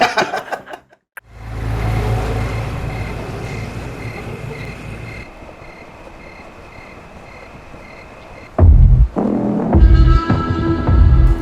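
A car drives through traffic, its engine a steady low rumble with wind noise throughout, going briefly quiet near the start and surging louder and closer toward the end; no voices.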